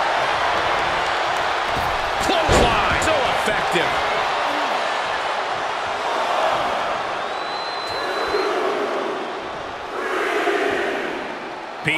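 Arena crowd roaring and cheering in WWE 2K24 during a Roman Reigns vs Jacob Fatu Last Man Standing match, a loud continuous wall of crowd noise with thuds and a commentator talking over it.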